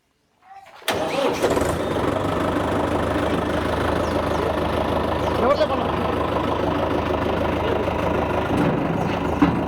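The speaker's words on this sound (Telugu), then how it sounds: "స్టార్ట్ చేయ బండిని." A Mahindra vehicle engine cranks and catches after a brief quiet moment, then settles into a loud, even, close idle that runs steadily to the end.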